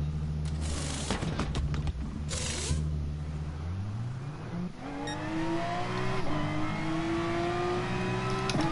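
A race car in GT Sport enters the pit lane, its engine dropping in pitch on deceleration then settling into a steady limiter whine, alone and fairly loud.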